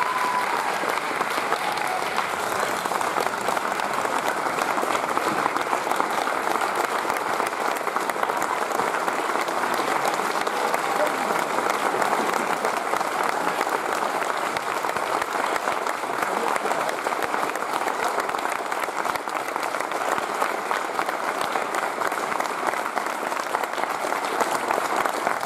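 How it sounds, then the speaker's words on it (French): An audience gives a standing ovation at the opening night of a film festival in a Paris cinema. Dense, steady applause from a large crowd goes on without pause, loud and full, with no spoken words. "Standing ovation, s'il vous plaît."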